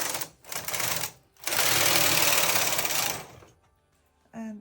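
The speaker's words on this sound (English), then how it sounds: "Move the carriages from left to right to select the needles." Carriages of a Brother KH 260 knitting machine sliding across the needle bed, a loud rattling, clattering sweep in separate passes, short pass first, then a longer sustained run, with quiet gaps and a brief clack at the end.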